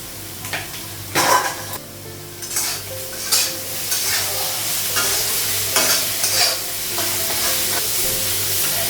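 Turmeric, cumin, salt and ginger paste frying with potatoes in a pan, a steady close sizzle broken by repeated scraping stirs and clinks of a utensil against the pan, with no talking.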